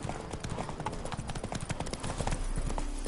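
Horse hooves clip-clop steadily on a road in a PlayStation 4 video game, a continuous close trotting rhythm with a faint voice briefly urging the horse on.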